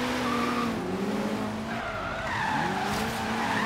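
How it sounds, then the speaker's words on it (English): An all-wheel drive BMW drifts in Forza Horizon 3 on Xbox One X, its tires squealing loudly and continuously over a droning, shifting engine note, with no talking. "Drifting an all-wheel drive BMW."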